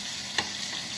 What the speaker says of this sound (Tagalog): So, nagpiprito si Tita Emmy ng isda nila.